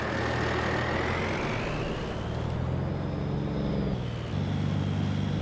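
A truck loaded with goods for the pawn shop rumbles steadily into a Wyoming town, its low engine drone constant with a faint hiss of passing traffic and a short brake-like squeal midway.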